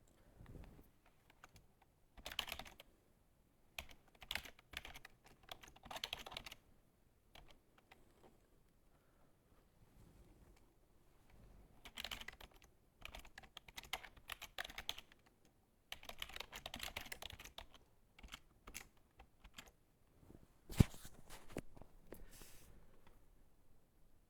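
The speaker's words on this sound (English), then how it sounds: "Let me do a little bit of typing." Typing on a computer keyboard in bursts of quiet rapid key clicks separated by pauses, close but faint, with a single louder tap near the end.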